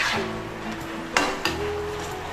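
Metal clinks and scrapes against a pot as boiling chicken is stirred, over a steady low hum of the simmering pot; two sharp clanks stand out.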